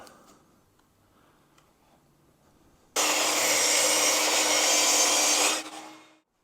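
Saw cutting a taper in wood for a bench leg: after quiet faint handling, a loud continuous cutting roar starts abruptly and runs for about two and a half seconds before winding down.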